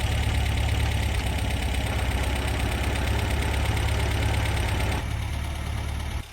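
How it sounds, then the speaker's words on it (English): A carbureted 1971 MG MGB roadster engine runs steadily at idle, its low, even exhaust burble continuous and close, easing slightly quieter near the end. "we'll take a listen to the engine and hear the exhaust note as well"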